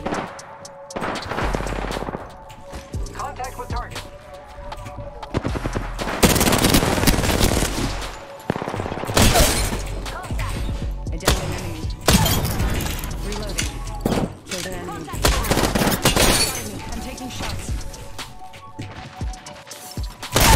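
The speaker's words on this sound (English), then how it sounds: "I'm taking shots." Rapid gunfire in a multiplayer shooter video game, repeated loud bursts of automatic fire and single shots spread across the stretch, with crashes and impacts between volleys and a voice talking over parts of the action.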